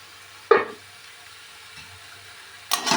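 Sliced snake gourd (chichinga) fries in a pan and is stirred twice, each stir giving a short burst of sizzling and scraping. A low, soft hiss of frying continues between the stirs.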